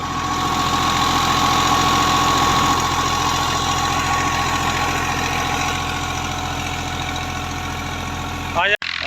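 A Farmer 533 tractor engine idles with a steady, throbbing low drone, close and continuous, with voices faintly talking beneath it.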